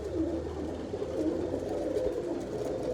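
Pet pigeons coo softly, a low, continuous burbling murmur at a modest distance over a steady background hum, with no talking.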